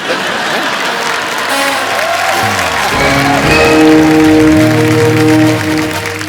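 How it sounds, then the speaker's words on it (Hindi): A television studio audience bursts into loud, sustained applause and cheering, with music swelling underneath throughout. "एक बार जोरदार तालियां"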